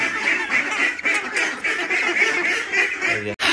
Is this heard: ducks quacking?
yes